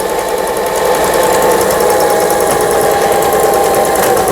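A Lion Excel 15s sewing machine stitching steadily, its needle hammering in a fast, even mechanical rhythm close by, loud and continuous with no talk over it.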